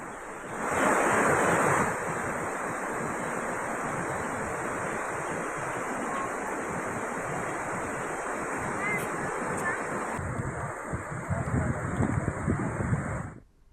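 Dhanushkoti Falls in Maharashtra, swollen by heavy monsoon rain, gives a constant loud roar of rushing water, dense and unbroken throughout, with wind buffeting the microphone.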